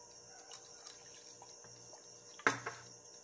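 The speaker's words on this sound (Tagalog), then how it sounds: "lagyan ng konting tubig" Water poured into a homemade fish food mixture and swirled, soft trickling and sloshing with a sudden splash near the end, faint and close in a quiet room.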